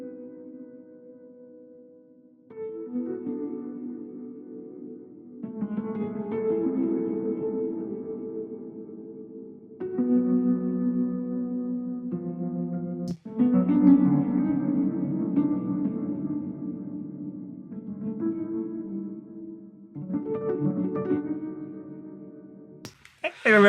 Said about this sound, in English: So the piano on this part sounds like this.